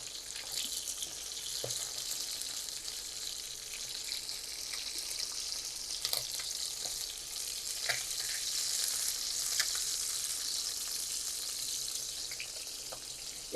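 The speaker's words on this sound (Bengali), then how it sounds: "আর মাছগুলো আমি এখন ভেজে নিচ্ছি।" Pabda fish fry in hot oil, giving a quiet, continuous sizzle dotted with scattered small pops and crackles that come and go throughout, with no voices.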